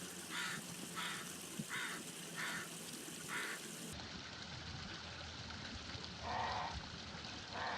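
A crow beside two waterfalls in freezing weather gives five evenly spaced caws over a constant, faint rush of water. After a pause, one lower and more drawn-out caw follows.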